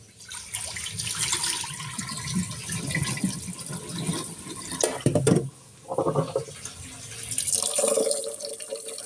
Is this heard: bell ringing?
no